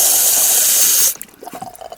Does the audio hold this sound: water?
yes